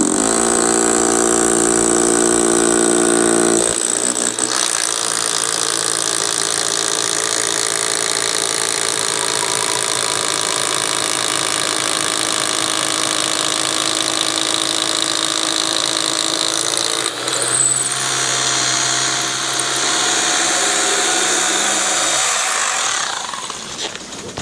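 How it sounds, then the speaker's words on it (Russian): A power drill bores a 6 mm hole into aerated concrete, a loud continuous whining grind running steadily for over twenty seconds, with a brief shift in pitch midway and then winding down at the end. "для того, чтобы закрутить вот этот саморез в бетон, нам нужно просверлить отверстие диаметром 6 мм"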